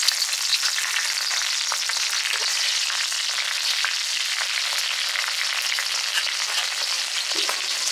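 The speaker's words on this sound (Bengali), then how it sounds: "তেল গরম হয়ে এসে দিয়ে দিব চেরা কাঁচামরিচ" Slit green chilies frying in a small amount of hot mustard oil, a continuous close sizzle with scattered crackles and pops that runs evenly throughout.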